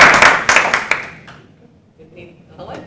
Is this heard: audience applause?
yes